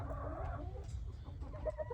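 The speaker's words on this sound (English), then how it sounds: "Here's some of my hens, and there's my big turkey, my big girl." Farmyard hens clucking close by in short, soft bursts over a low background rumble, with a turkey among the flock.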